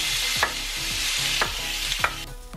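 Beef sears in hot cooking oil in a pan for Japanese nikujaga stew, a steady close sizzle broken by three or four short stirring scrapes at regular intervals.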